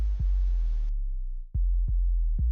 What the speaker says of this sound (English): This is like my go-to sub drop.